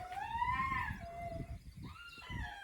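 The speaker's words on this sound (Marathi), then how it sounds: "कुत्र येवाळते" A dog howls in long rising and falling wails, two drawn-out howls separated by a short pause, fairly close.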